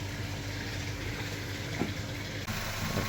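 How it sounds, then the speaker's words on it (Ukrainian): Distilled water flushes through the cooling system of a VW Jetta MK7, a steady dense rushing hum with an engine-like drone underneath, close and continuous. "Триває у нас промивочка дистильованою водою по всім контурам."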